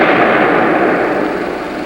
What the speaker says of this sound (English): the firing system is about to be detonated